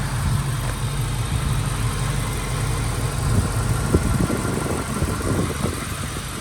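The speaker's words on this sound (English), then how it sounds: "Motor is clean, runs great." A 1996 Ford Mustang Cobra engine with a Bassani X-pipe exhaust idling, a steady, even rumble held at constant volume throughout, close and alone, with no talking.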